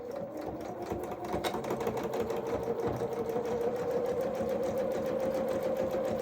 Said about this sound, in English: So a couple of stitches forward and then reverse.